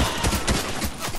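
Rapid gunfire crackles through a video game match, a dense burst of overlapping shots lasting about a second, steady and fairly loud with no voices over it.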